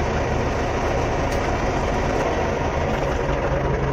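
A Belarus 920 tractor engine idles with a steady low rumble and constant vibration, unchanging throughout, with no voices.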